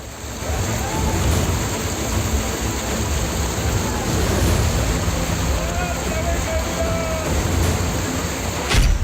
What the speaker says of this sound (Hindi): पानी का इतना तेज प्रवाह कि बाढ़ में बहने लगी गाड़ियां।